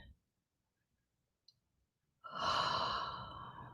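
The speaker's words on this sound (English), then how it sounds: "let's take about another 5 deep breaths" A slow, deep breath drawn in during a guided breathing exercise, heard as one soft, close exhalation-like rush that swells and holds after a quiet pause, alone without talk.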